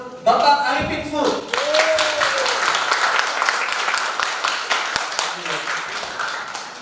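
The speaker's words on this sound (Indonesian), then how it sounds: "Mari dengan tepuk tangan meriah sama-sama kita sambut Bapak Arifin Fu." An audience at a business talk bursts into applause to welcome a speaker, a dense, sustained wash of clapping that swells quickly and holds steady, with a voice speaking over it at the start.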